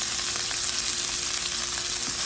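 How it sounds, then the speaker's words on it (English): Celery fries in a hot pan with a steady, loud, dense sizzle and crackle that hold an even level throughout, close up and with no talking. "now while this is cooking, I'm gonna go ahead and add the celery"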